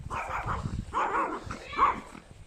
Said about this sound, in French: Oh le chien de garde.